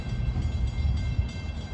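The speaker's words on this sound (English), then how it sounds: "Approaching now is train 658 en route from Penn Station, New York to Port Jefferson." Commuter train pulling into New Hyde Park station on the evening rush, a steady low rumble of rail cars close by with no horn and no talk.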